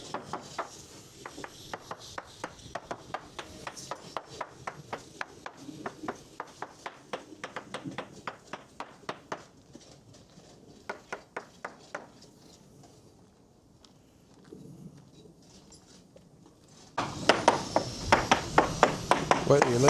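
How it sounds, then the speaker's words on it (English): A surveyor's harmonic hammer taps around the hull of a 2001 Sea Ray 460 Sundancer in quick, fairly faint repeated strikes, pausing briefly before a louder burst of tapping. "Surveyor is going to take a harmonic hammer and a moisture meter, go around the boat"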